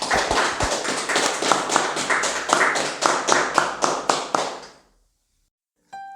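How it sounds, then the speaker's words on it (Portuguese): A church congregation in Cordisburgo, Minas Gerais claps in unison, sharp rhythmic beats about three or four per second, then stops abruptly, followed by silence and a faint tone. "Vamos aplaudir o Senhor Jesus?"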